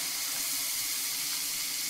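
Shower water runs steadily in the Roblox game, a continuous close rush of spray that fills the short moment with no talk or other sound.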